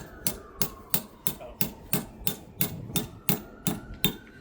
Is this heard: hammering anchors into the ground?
yes